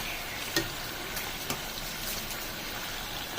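Chicken samosas deep frying in hot oil, a steady broadband sizzle like light rain with a few sharp pops and crackles, fairly close and continuous, no talking.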